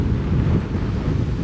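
Steady, low wind buffeting the microphone outdoors on a forest road with Teton mountain views, a continuous rumbling roar with no voices.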